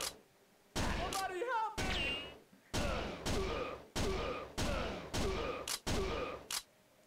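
Rapid bursts of pistol gunfire in the arcade shooter Virtual Cop 2, several loud separate volleys with short gaps between them, mixed with game sound effects and no talk over them.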